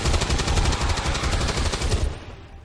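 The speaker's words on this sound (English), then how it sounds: "Good job. Nice shooting." Rapid automatic gunfire from XCOM 2 rattles in a dense, loud burst of repeated shots, then cuts off abruptly near the end.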